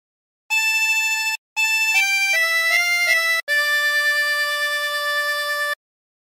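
A diatonic harmonica plays a bent phrase from What a Friend We Have in Jesus, a loud, clear run of held reedy notes shifting in pitch, with a brief gap and then a long sustained final note, with no other sound.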